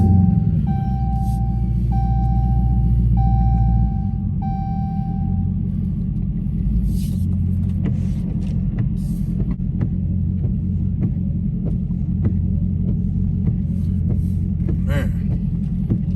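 A Dodge Hellcat on new 305/30 ZR20 Pirelli P Zero tires rolls along with a steady, heavy low rumble from the engine and road, plus a brief tone early on and scattered clicks and ticks over the drone.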